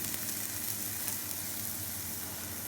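Onions frying in a pan give a steady, dense sizzle with fine crackling throughout, close and even in level, with no talking.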